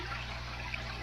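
Steady watery hiss and bubbling from a Maxi Jet powerhead fitted with an air line in a freshwater cichlid aquarium, continuous and close, with a low mains hum beneath and no talk.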